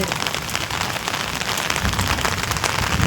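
Rain falls steadily at a Tamil temple, a dense even hiss of drops on hard surfaces lasting throughout, with no voices and a slight swell toward the end.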